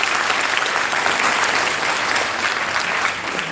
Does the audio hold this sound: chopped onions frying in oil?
no